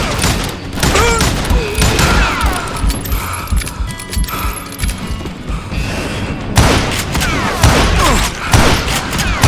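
Gunfire in a shootout at a camp outside Parachute, Colorado: rapid, loud volleys of shots and impacts crowd together in dense bursts, with a short lull before the firing resumes.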